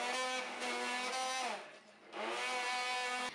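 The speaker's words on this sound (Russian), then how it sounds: "Теперь берем блендер и все это хорошо измельчаем." An immersion blender chops parsley and garlic in olive oil, a loud motor whine that drops away briefly and then starts again, with no talk.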